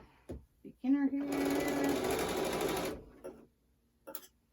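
A sewing machine stitches a pocket prayer quilt in one steady, close run of about two seconds, with brief handling noises before and after and a little talk at the start.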